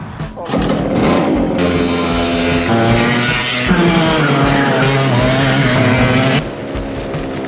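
100cc racing karts driving on a track, their small engines buzzing loudly and continuously with rising and falling pitch as they pass close by.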